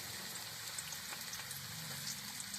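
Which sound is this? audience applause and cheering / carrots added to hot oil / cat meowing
carrots added to hot oil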